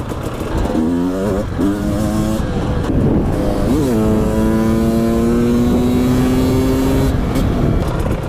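Enduro motorcycles rev and shift repeatedly on a slippery trail, pitch climbing and dropping through gears, loud and close with several bikes droning together.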